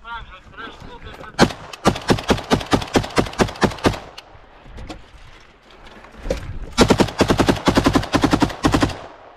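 Automatic rifle fire from a video game rattles out in two long, rapid bursts of loud, close shots separated by a short pause.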